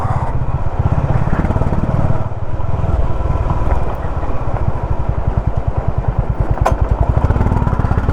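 An off-road motorcycle engine chugs steadily and loudly while stones clatter against the bash plate and sump guard beneath it on a rough road between Padum and Leh.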